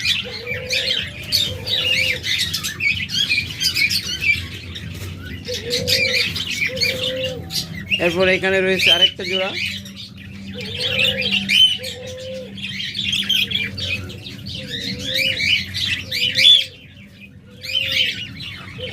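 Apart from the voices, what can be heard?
caged pet birds chirping and cooing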